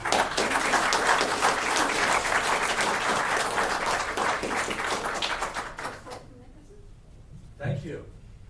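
Clapping from an audience at a town Board of Selectmen special meeting, a loud, dense burst lasting about six seconds before fading out, followed by a brief murmur of voice.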